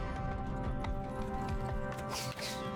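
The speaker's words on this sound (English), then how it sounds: "My own horse is blocking my way over here." Horse hooves clip-clopping in Mount & Blade II: Bannerlord, a steady trotting patter over a constant game background hum with no voice.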